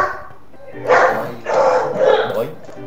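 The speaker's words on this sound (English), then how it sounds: "My dogs are barking, I can't hear you that well." Pet dogs barking in bursts in a home while a person talks over a game call, the barks mixed with speech.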